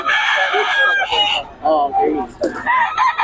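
Gamefowl roosters crow loudly and close by at a market, several overlapping calls in quick succession. Someone speaks briefly among them.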